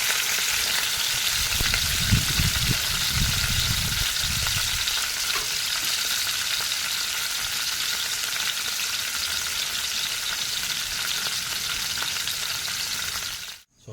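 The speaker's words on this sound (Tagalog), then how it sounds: "habang piniprito natin yung tokwa" Tofu frying in a pan gives a steady, loud, close hiss of sizzling oil that runs the whole time, with some low stirring thumps early on before it cuts off abruptly at the end.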